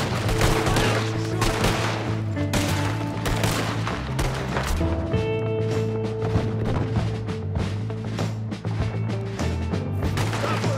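Repeated gunshots crack in rapid, uneven bursts during a shootout in Red Dead Redemption 2, a Wild West video game, with a steady, droning musical score underneath the whole time.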